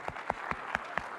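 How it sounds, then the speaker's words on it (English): A small audience at an engineering summit claps briefly, a handful of sharp, separate claps spaced evenly over about a second, fairly faint and with no talk over it. "Let's clap for Mozilla team."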